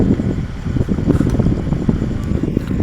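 An electric fan switched on during a hot indoor Hindi class, giving a steady, fairly loud broadband whir with low rumble that runs continuously, with no speech over it.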